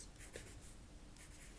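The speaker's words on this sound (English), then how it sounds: "I'm going to very lightly write crocus and try and get it in the middle of that dotted line" A pencil lightly writes a single word on watercolour paper for a botanical painting, giving soft, quiet scratchy strokes in two short bursts over faint room tone.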